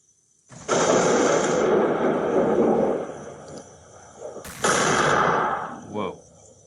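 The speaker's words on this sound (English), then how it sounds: "let's go explosion, some more explosions, cinematic boom" A cinematic boom explosion sound effect plays as two broad, roaring bursts. The first swells and fades over a couple of seconds. The second hits with a sharp crack, then decays into a quieter rumble.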